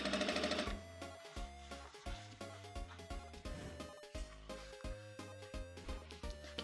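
A sewing machine stitching the hem of a pair of jeans, running in short rhythmic bursts with brief pauses between, close and fairly quiet, with no talking.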